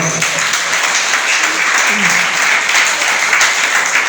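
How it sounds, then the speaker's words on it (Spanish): A large crowd applauds loudly and steadily at a church service, a dense wash of clapping that carries on without a break, with some voices mixed in. "Dale otro aplauso al Señor."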